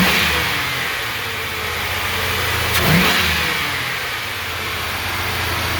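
A Chevrolet Silverado with a stock intake and open cats feeding a stock cat-back exhaust, revving steadily with a brief louder blip midway, the exhaust drone close and continuous throughout.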